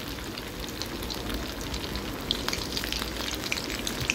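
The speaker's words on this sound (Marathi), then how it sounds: "या पद्धतीने सर्व मेदूवडे मी तळून घेणार आहे।" Medu vada, lentil fritters, deep frying in oil over medium heat, giving a steady, close sizzle with scattered bright pops and crackles throughout.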